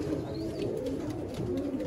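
Teddy pigeons coo close by at a sale in Sialkot, low throaty calls rolling continuously over a busy background.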